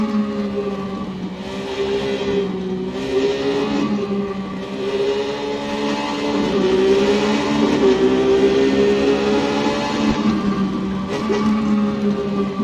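A Triumph Street Triple motorcycle engine in a racing video game on a track, revving loudly and continuously with rising and falling pitch through gear changes, up close and without speech.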